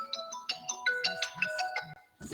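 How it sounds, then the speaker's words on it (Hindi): A phone ringtone plays a bright, repeating melodic chime pattern, close and clear, with no talking over it. "प्रिंसिपल सर का फोन आ रहा है बस।"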